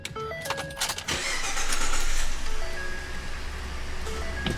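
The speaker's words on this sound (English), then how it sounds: "See if we can start it up real quick." A 2014 Ford F-150 starts up: a few chimes and key clicks, then the engine cranks and catches into a loud, steady idle that settles lower, with dashboard tones over it.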